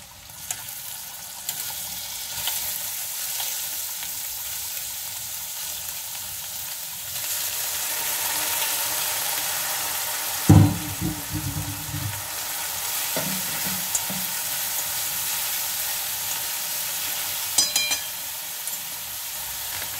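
Soybeans fry in a hot pan in a home kitchen, giving a steady close sizzle with stirring scrapes and a louder clattering burst midway, without speech.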